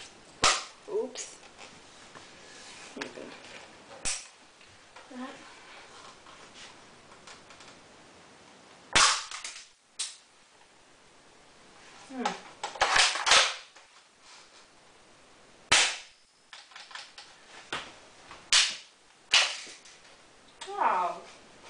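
A new gun firing repeatedly, sharp snapping shots spaced irregularly with a few quick clusters, close and loud, with brief speech between them.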